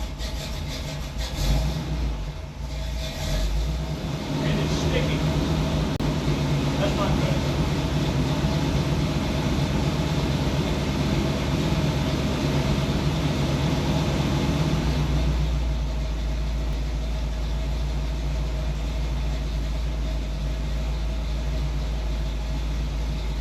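A 1981 Corvette engine idling, a loud steady low rumble that runs unbroken, with an earlier revving or clattery stretch at the start and a slightly deeper tone after the midpoint.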